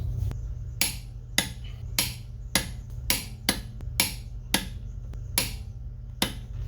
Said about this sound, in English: torque them all in a star pattern to 95 foot-pounds